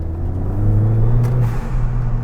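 A Ford Fiesta ST fitted with an induction kit revs its engine, heard as a close, loud, throaty rumble that swells briefly and then settles, with no speech.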